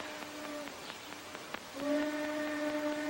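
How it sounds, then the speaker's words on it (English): A steam train whistle in a 1946 Western film gives two sustained, steady tones. The second blast is louder and longer than the first, and no voices are heard. "Train whistle."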